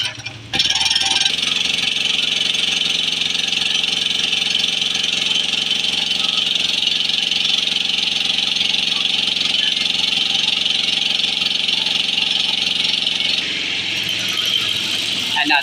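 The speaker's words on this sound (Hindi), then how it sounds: "ये जनरेटर है" A homemade petrol generator built from a 70 motorcycle engine starts up and runs at a steady, loud, buzzing idle close by, continuing unbroken until a slight drop near the end.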